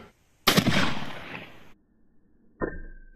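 A single loud blast from an Indian-made 12 bore single-shot shotgun with a choke barrel, made by Sujata Arms of Karnataka, fired outdoors, with a sharp crack and a decaying tail, followed by a quieter mechanical clack.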